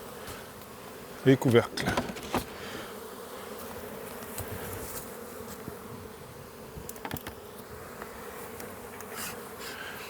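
Bees buzz steadily around a nucleus hive opened for inspection, a continuous close drone with a few louder passes. A voice speaks briefly near the start.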